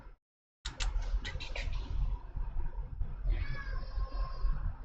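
A house cat indoors lets out a loud, close meow after a brief silence, followed by a drawn-out wavering cry, with no speech.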